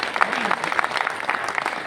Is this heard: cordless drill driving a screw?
no